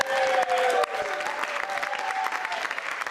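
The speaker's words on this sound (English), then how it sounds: "That's worth a round of applause." A crowd claps enthusiastically for a few seconds, dense and close, with a faint murmur of voices mixed in.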